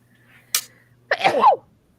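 One sharp, close sneeze rings out against quiet, followed a moment later by a longer, louder voiced sneeze.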